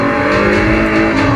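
A racing car engine in the video game Forza Horizon roars loud and steady in a short, continuous burst at high revs, with no talk.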